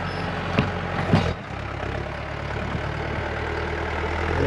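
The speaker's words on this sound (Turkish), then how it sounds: "Bu traktörün sesi çok daha iyi." A farm tractor's heavy engine idles steadily with a deep low rumble, close by, with a couple of brief louder bumps near the start.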